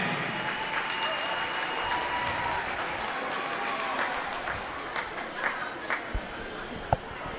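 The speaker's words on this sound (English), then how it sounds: "Have a round of applause for these boys." Audience at a swim meet awards ceremony gives a sustained round of applause for the boys' award winners, steady clapping filling the hall, with a few louder individual claps near the end.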